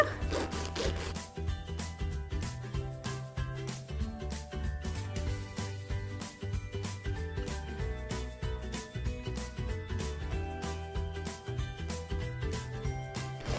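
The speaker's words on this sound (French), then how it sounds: "Donc avec la lime, il n'y a plus qu'à raccourcir" A nail file scrapes back and forth across gel nails to shorten them, a steady close rasping rub in quick regular strokes that runs continuously with no talking.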